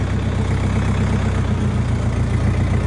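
A Jinma 404 tractor engine idles steadily and loudly up close, a continuous low rumbling throb with an even pulse and no talk over it.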